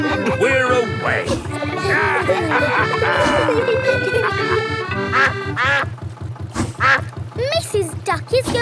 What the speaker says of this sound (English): Mrs. Duck is going faster than our boat.